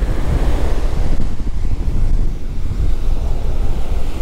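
Wind and ocean surf pound a fishing beach, a loud, continuous roar of crashing waves and gusting air buffeting close to the microphone, with no voices.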